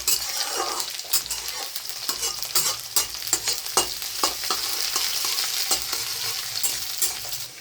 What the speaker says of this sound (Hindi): अब डाल देंगे प्याज। ये भी इतना छिटक रहा है ना।